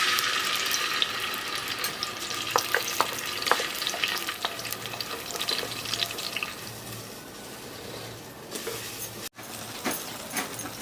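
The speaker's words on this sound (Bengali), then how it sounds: "এবার মশলাটা কষিয়ে নেব।" Bengali spice paste (masala) being fried in a pan for hilsa fish biryani, a steady sizzle with scraping stirs, some faint water splashing toward the end, no talking.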